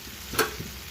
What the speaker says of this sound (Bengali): ভালো করে নাড়বো।